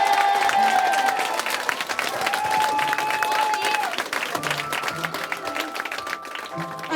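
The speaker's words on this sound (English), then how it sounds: "can you just give them all the biggest clap you've ever given anyone" Loud, sustained clapping from a large crowd, steady and dense throughout, with a few scattered voices mixed in.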